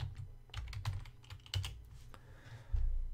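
Someone types a search into a browser address bar on a computer keyboard, a quick irregular run of close, soft key clicks with a few heavier thumps.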